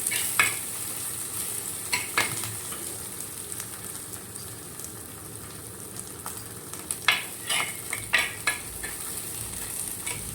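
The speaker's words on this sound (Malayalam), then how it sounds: "അതിലേക്ക് നമ്മൾ മുളക് പൊടി ഒരു ഒരു ടീസ്പൂൺ മഞ്ഞൾപ്പൊടി, ഒരു മല്ലിപ്പൊടിയും കൂടി ഇട്ടിട്ട് നന്നായിട്ട് ഇളക്കിയെടുക്കണം" Ginger sautéing in a pan for Onam puli inji curry, with chilli, turmeric and coriander powders stirred in: a steady close sizzle broken by irregular sharp scrapes of the spoon, with no talking.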